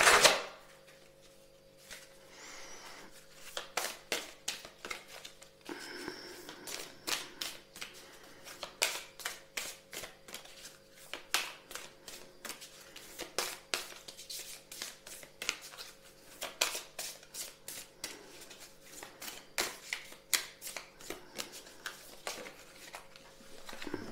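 Oracle cards shuffled by hand for a reading, a long run of soft, crisp riffling taps in quick irregular bursts, close and quiet, with no talking.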